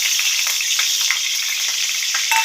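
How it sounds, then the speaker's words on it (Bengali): Dried red chillies and mustard seeds spit and crackle in hot oil for a Bengali-style methi saag, a loud, dense, continuous sizzle with sharp popping bursts throughout and no voices. "শুকনো লঙ্কা আর সর্ষে ফোড়ন দিয়ে দিলাম"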